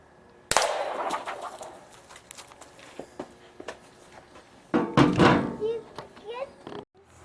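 An air rifle fires an Aguila Colibri round into a target about ten feet away: one sharp crack near the start, then scattered thunks and handling noises, with a louder burst of clattering and talk near the end.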